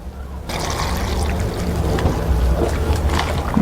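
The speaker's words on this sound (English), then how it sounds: "Just add water," Water poured onto dried mushrooms in a kitchen bowl, a steady splashing pour that starts abruptly and runs continuously, close and fairly loud with no talk.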